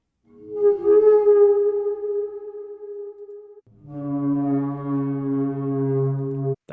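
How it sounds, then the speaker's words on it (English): Two horror-style sound-effect swells play alone: a deep, droning foghorn-like tone that slowly rises and fades, then a second, richer sustained tonal swell that builds and holds before cutting off. "That was some swells and sweeps"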